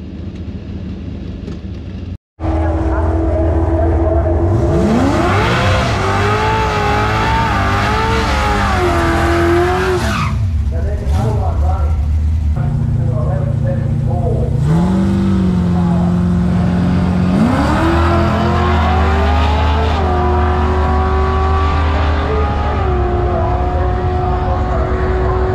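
An LS-swapped Mazda race car launches and accelerates hard down a quarter-mile drag strip at a grand opening, its loud engine climbing through gears with rising and falling pitch, then pulling again in a long continuous roar.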